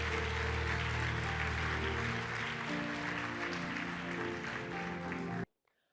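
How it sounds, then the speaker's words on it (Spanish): A church congregation claps together in a loud, sustained wash of applause that continues evenly for over five seconds, then cuts off abruptly into near silence. "Hoy te damos un aplauso gigante por lo que estás haciendo en nuestra vida"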